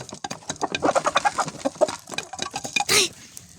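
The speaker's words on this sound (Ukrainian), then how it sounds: "Це півень чи це е, курка." Short clucks and calls from an Ameraucana chicken, hen or rooster, recorded close by. The calls come in scattered bursts, with a louder squawk near the end.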